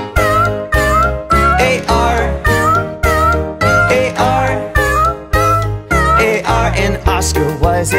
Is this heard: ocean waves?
no